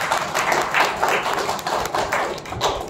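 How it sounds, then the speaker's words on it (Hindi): An audience at a diet seminar claps in steady unison, rhythmic hand claps at about three per second, moderately loud and sustained with no talking. "तालियां बजाइए एनडीएस के लिए"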